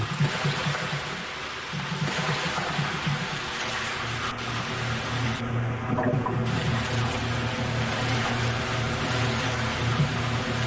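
A character wades into water in the original Half-Life game, a continuous churning, splashing wash that runs on steadily and fairly softly with no talking.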